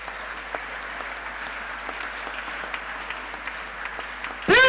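Church congregation applauding the Lord during a French-language sermon, sustained clapping from a roomful of worshippers at moderate level, broken at the very end by a sudden loud burst.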